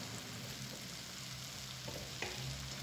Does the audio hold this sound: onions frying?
yes